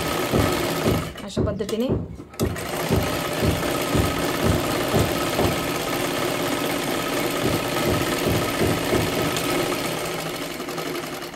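A sewing machine runs steadily, stitching a blouse lining for a boat-neck katori blouse, its motor whirring with a regular pulsing beat throughout, close and fairly loud, while someone speaks briefly over it near the start.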